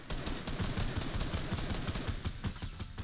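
Continuous bursts of gunfire in a shooter game, rattling shots repeating in quick succession at a steady loud level, with no talking.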